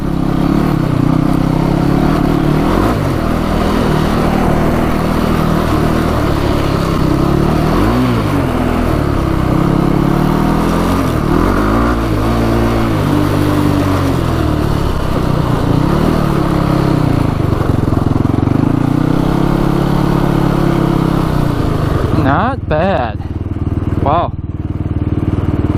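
A motorcycle engine runs steadily throughout a short test ride, a constant mid-pitched drone with gentle rises and falls in revs, fairly close and loud, with brief speech near the end.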